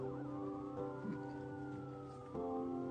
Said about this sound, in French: L'ambulance ne va pas tarder à arriver.